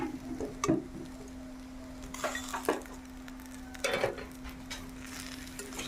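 Paneer with spices and crushed ginger-garlic is stirred and fried in a pan, heard as quiet, scattered spatula scrapes and light clinks over a soft, steady hum.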